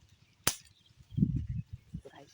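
A single sharp gunshot cracks out nearby during a duck hunt in open country, followed by low rumbling handling noise and a brief voice.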